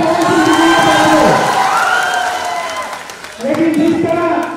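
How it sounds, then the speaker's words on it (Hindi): A crowd at a film premiere cheers and claps for Bhojpuri star Pawan Singh, loud shouts and whoops swelling, fading briefly, then rising again, with voices mixed in. "एक जोरदार तालियां पवन सिंह जी के लिए"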